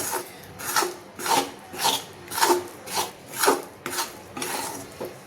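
A thick peanut sweet mixture is stirred in a kadai with the gas off, making rhythmic scraping rasps, about nine strokes roughly half a second apart, close and clear without talk.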